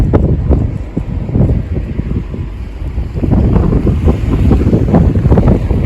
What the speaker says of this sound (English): the wind is picking up a lot